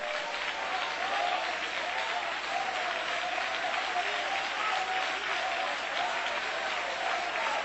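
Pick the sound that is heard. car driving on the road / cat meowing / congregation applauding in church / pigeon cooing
congregation applauding in church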